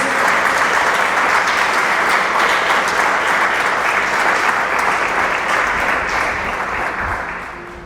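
A church congregation applauding, dense and loud, the clapping sustained evenly for several seconds and then starting to fade toward the end, with no talk over it.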